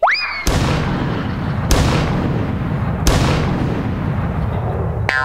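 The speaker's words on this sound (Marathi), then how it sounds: "या पंचला त्याने 3 तोफांची सलामी दिली बघ." A three-cannon salute sound effect booms three times at even intervals, each blast loud and close with a long rumbling tail, opening after a short rising whoosh.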